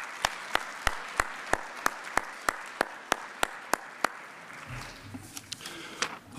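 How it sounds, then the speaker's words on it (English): Audience at a 2018 analytics conference plenary session claps in a slow, sparse rhythm of single loud claps, then the applause thins out into scattered faint claps and background noise. "how about a round of applause for all of those great winners announced last night"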